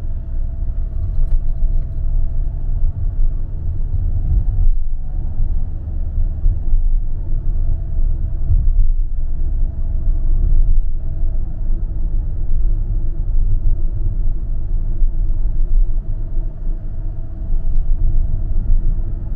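A third-generation Kia Carnival's engine drones steadily while the minivan climbs an uphill road, a continuous low rumble heard from inside the cabin with faint road noise and no speech.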